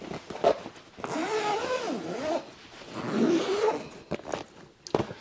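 Zippers on a set of two fabric underbed storage containers being opened and closed, with several long rasping zip runs of rising and falling pitch, close and fairly loud, separated by brief handling noises and no speech.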